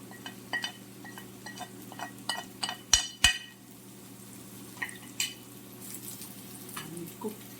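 Kashmiri red chili powder, coriander powder and haldi fry in a pan for smoky butter chicken: a soft sizzle under close spoon scrapes and clinks, with two sharp knocks partway through.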